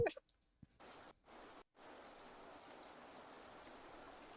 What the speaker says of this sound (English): Why is it just rain?